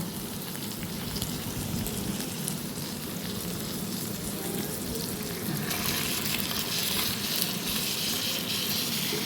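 A barramundi fillet wrapped in banana leaf roasts in a covered pan, giving a continuous soft sizzle and crackle that grows slightly brighter and busier partway through, with no talking.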